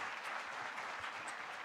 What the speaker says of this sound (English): One beautiful round of applause to all of them.